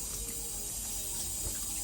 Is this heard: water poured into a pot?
yes